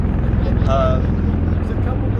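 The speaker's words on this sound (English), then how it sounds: "I've arranged this flyby by the helicopter, just to make sure we get the right, Marine Corps background" A Marine Corps helicopter flies past during an outdoor ceremony at the US Naval Academy, its steady, loud low rotor rumble continuing throughout while a person speaks over it.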